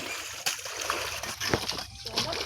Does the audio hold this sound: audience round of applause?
no